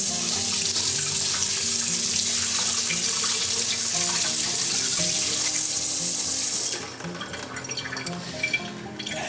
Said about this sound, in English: You got to rinse this out too.